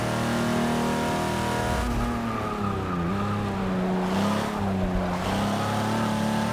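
A 1953 Corvette races in Forza 6 multiplayer, its engine droning loud and steady with rising and falling revs through gear changes and brief tire squeal, continuous and close throughout.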